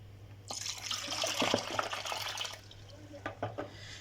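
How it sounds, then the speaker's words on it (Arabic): About a liter of water is poured into a pot, a splashing, running pour that starts abruptly, flows loudly for about two seconds, then thins to a few drips and trickles, with a steady low hum underneath. "صافي هنا غندير اطرو ديال الماء"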